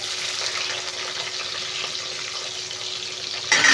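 Onions added to hot oil already holding curry leaves, mustard seeds and cumin, frying with a steady close hiss and sizzle, followed by a brief louder burst at the end, with no voices.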